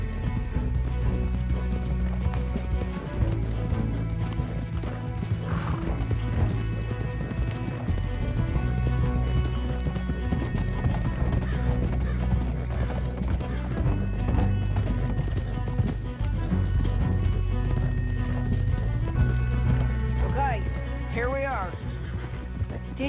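Horses gallop and neigh in Red Dead Redemption 2, with hoof clip-clop and whinnies running steadily beneath a dense, loud wash of game score and effects, and voices talking over it.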